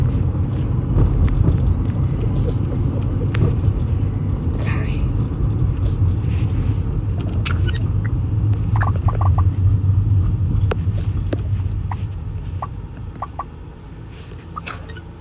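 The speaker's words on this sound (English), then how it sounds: "Sorry for the background noise. We're in a car." Steady low road rumble and engine drone inside a moving car, continuous and fairly loud throughout, with voices talking over it and the noise easing slightly near the end.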